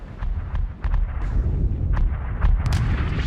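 A German anti-tank gun, originally an anti-aircraft piece, fires during fighting around Caen, with several sharp booming reports scattered across a few seconds over a rumbling battlefield background.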